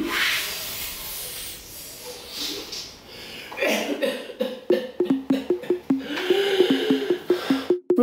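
A voice imitating a wolf makes breathy hissing puffs, then a run of short, sharp coughing bursts in quick succession, close and fairly loud.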